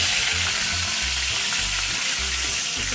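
Mustard seeds and curry leaves crackle and sizzle in hot oil, a loud, steady frying hiss with no voices.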